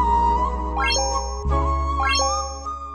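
Electronic phone ringtone with bright chiming tones and rising jingle flourishes over a steady low synth bed, repeating in two near-identical phrases, loud and close.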